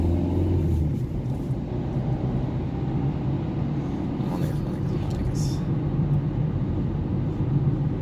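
Rush-hour car traffic, a dense continuous low rumble of engines close by, with a few brief higher swishes of passing vehicles.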